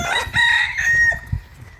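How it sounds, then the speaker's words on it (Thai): A rooster crows at a Thai temple shrine, one loud drawn-out cock-a-doodle-doo with clucking fowl close by, heard alone without talk. "อันนี้ก็จะมีน้องไก่"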